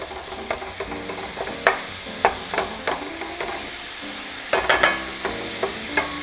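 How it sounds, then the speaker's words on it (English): Ground beef browning in a pan for Bolognese sauce, a continuous close sizzle broken by repeated sharp scrapes and taps from a utensil stirring the meat. "So we'll get our ground beef going."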